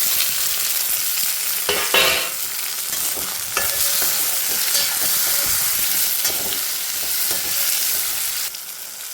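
Chopped tomatoes fry loudly in a pan of hot oil for an egg masala curry, a dense continuous sizzle with occasional stirring scrapes, close and alone without talk.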